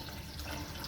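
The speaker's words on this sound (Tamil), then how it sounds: "we can add little bit of water" A short, steady pour of water splashes into a pot of tomato rice being cooked, a continuous close rushing sound with no talk.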